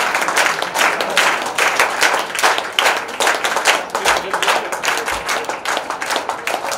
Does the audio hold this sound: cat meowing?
no